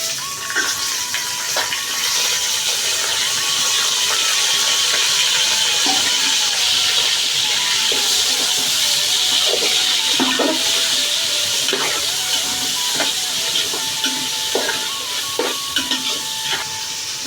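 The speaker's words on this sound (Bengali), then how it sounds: "এখন এই বেরেস্তার মধ্যে আমি মুরগির গোশতটা দিয়ে দিলাম।" Chicken meat sizzles in a pot of deep-fried onions for biryani, a steady loud hiss of frying with scattered stirring clicks and scrapes throughout, no talking.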